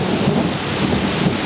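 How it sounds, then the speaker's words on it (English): A thunderstorm with heavy, wind-driven sideways rain, a loud dense roar of downpour with low rumbling underneath, steady throughout and with no talking. "The rain's coming in sideways now."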